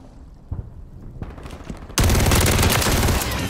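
Rapid, sustained MAC-10 submachine gun fire in a shooter video game, a dense unbroken burst kicking in loudly after a quieter opening with a few scattered thumps.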